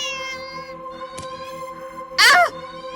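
A cat meows once, loud and brief, in the video game Do Not Take This Cat Home, over a sustained tonal music drone.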